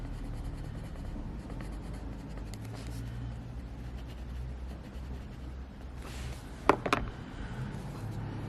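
Colour pencil working across paper during a colouring session, a steady soft scratchy rubbing that runs almost continuously and close, with a brief louder scrape near the end.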